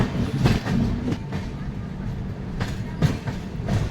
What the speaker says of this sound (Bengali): কিছুক্ষণ দাঁড়ানোর পরই বিজয়নগরম থেকে ট্রেন ছেড়ে দিয়েছে